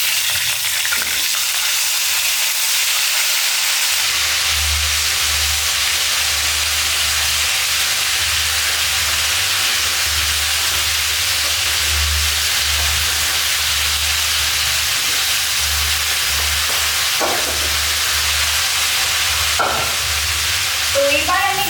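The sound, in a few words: cauliflower and potatoes frying in oil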